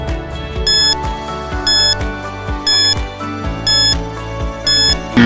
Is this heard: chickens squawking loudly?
no